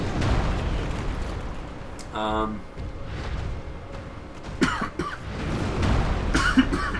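A gamer playing Dark Souls breaks into a burst of harsh coughing over background game noise and chatter, with a few more sharp bursts following later.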